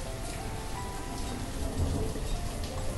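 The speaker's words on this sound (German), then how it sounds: "Und es regnet schon wieder." Continuous rain in the city-building game Banished, a dense, steady patter and hiss with faint tonal game ambience underneath, no voices present.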